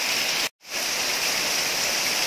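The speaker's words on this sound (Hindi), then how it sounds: "खूब ही तूफान बारिश हो रही है" Dense, steady roar of heavy rain pouring down, broken by one brief cut to silence before the downpour resumes.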